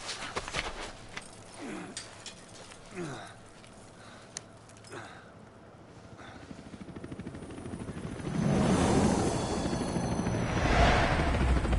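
Helicopter rotor noise from the video game Metal Gear Solid V: The Phantom Pain, swelling into a loud, steady broadband roar in the final few seconds after quieter, scattered game sounds.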